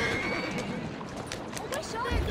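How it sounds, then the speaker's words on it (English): A horse neighs in Assassin's Creed Syndicate, a loud whinny riding over continuous game ambience with faint hoof clatter, and a low thump near the end. "Steady on. Who's a good horse? You are."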